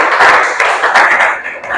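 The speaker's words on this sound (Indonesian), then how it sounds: "Tepuk tangan untuk kelompok" A classroom group applauds another group of students, a dense, close burst of many hands clapping together that stays loud and slightly fades toward the end.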